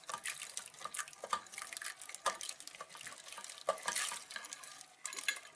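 Water splashes and trickles into a pot of split pea soup, a soft, uneven liquid pouring with light clinks and bubbling, faint and close.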